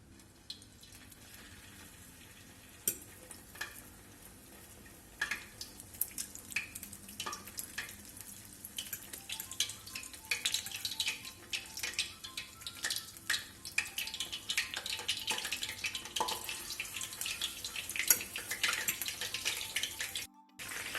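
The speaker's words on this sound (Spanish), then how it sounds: "Las vamos a ir friendo por tandas, dejamos que se hagan bien por un lado" Steady sizzling of egg-soaked bread slices frying in a pan for torrijas, with scattered crackles and pops growing busier over time and occasional scraping.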